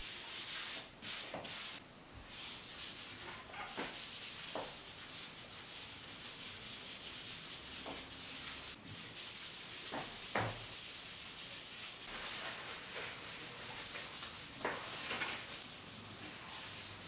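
Fine abrading of a varnished bass guitar body before the last coat, a quiet close-up dry rubbing and scratching with irregular short strokes and soft knocks.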